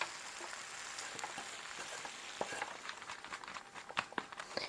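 Sauteed cabbage and onions go into a larger pan sprayed with oil, giving a faint, steady sizzle with soft scattered taps and scrapes that grow busier toward the end, no voices.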